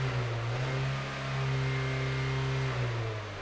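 A car engine held at a rev limiter of 4000 rpm revs up, holds a steady, buzzing high note for about two seconds, then drops back toward idle, moderately loud and close.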